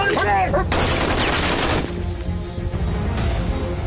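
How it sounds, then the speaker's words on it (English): Gunfire in an action film: a dense burst of rapid shots and booming blasts rings out loudly for a couple of seconds, then dies back under shouting voices and soundtrack. "Open fire. Shoot that thing!"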